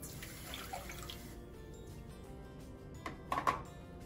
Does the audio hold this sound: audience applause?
no